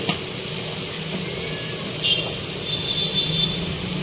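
Tomato frying in a pan for tomato bath upma, a steady low sizzle running throughout with a few faint brief clinks, close and moderately quiet, no voices.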